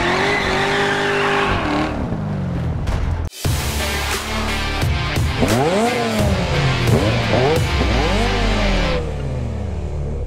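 A car in the Test Drive Solar Crown racing game, sounding like a Nissan GT-R, revs hard through rising and falling engine pitch sweeps with squealing, skidding tires, loud and close, with a brief cut in the middle.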